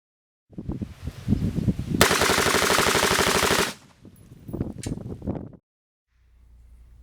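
Rifle fired through a muzzle brake from the ground, a rapid string of loud, close sharp reports forming a dense burst of shots, followed by a few more separate cracks and a low rumble at the end.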